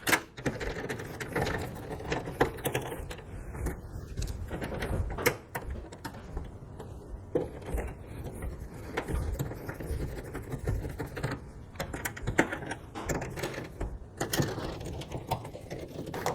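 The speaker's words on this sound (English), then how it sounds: "we're just going to unscrew those nuts and then thread them back in literally the same way" Terminal nuts being unscrewed from a dryer cord terminal block, heard as continuous faint scraping and clicking of hand tool and metal, steady and close with no talking.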